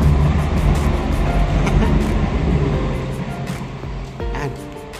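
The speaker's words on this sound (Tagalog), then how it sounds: "Ito, daanan ng tren ito mga kaabos ito. Ano? Yan, tren o." Loud, close rumble of a train passing along railway tracks, a dense low roar that fades somewhat toward the end, with a brief screech-like tonal squeal near the finish.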